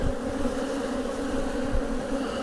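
A steady, dense drone of many honeybees buzzing close by, continuous and even throughout.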